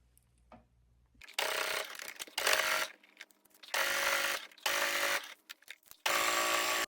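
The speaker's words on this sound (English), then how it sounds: "So now we're going to sew all the way around, leaving the neck open at a 1/4 inch seam allowance." A sewing machine stitches a 1/4 inch seam around a fabric teddy bear in several loud bursts of steady mechanical whirring, with short quiet pauses between runs.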